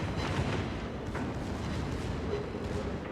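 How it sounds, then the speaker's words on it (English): Heavy naval gunfire from a Kurfurst, a Tier 10 German battleship in World of Warships, rumbling as a dense low boom that stays loud and sustained for the full length, with no voices. "when you fire this salvo off at the Hindenburg"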